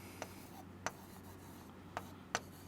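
Marker or chalk writing on a board during a chemistry lesson, four short crisp strokes spaced irregularly over a quiet room, close and faint.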